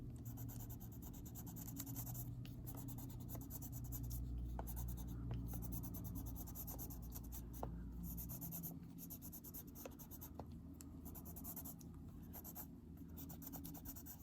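A light umber Neocolor II crayon is worked across paper in a steady, quiet scratchy rubbing, with a continuous waxy drag and small strokes over a low background hum.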